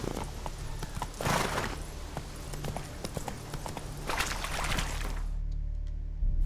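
Roach, Geralt's horse in the video game The Witcher 3, gallops with steady, rhythmic hoofbeats over a low ambient hum, with two louder rushing swells partway through before the sound thins out near the end.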